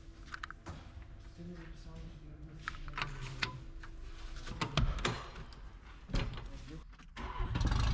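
Abandoned police car that sat sunk in a swamp, its engine cranking and catching after several uneven bursts, loud and rough, with a voice speaking nearby.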